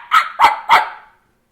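A voice imitates a loud dog bark three times in quick succession, close and forceful, then falls silent.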